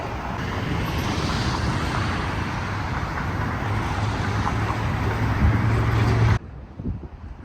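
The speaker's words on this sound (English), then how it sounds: "Sorry, it's noisy and lots of traffic, but it's still good to see what Provo downtown looks like." Street traffic in downtown Provo: a continuous roar of passing cars and engines mixed with wind buffeting the microphone, cutting off abruptly near the end to quieter background.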